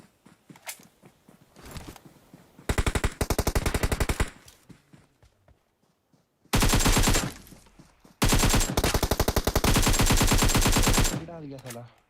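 Heavy automatic gunfire in a PUBG Mobile fight rings out in three long, loud, dense bursts, separated by quieter stretches of scattered shots and movement.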